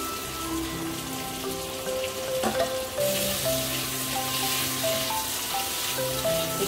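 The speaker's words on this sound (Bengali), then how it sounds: "একটু ভাজা ভাজা করে নেব।" Onion, capsicum and tomatoes fry in a pan for chilli chicken, giving a steady close sizzle with light crackle that runs without a break, with tonal clinks and scrapes layered over it.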